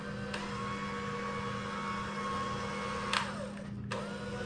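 An electric mixer runs steadily through whoopie pie batter, giving a continuous whirring hum with a couple of brief clatters near the end, and no one speaks.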